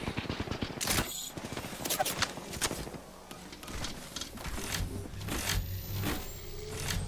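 Quieter volleys of gunfire crack through an Apex Legends fight in quick repeated bursts, moderately distant and spread across the whole stretch, with no talking.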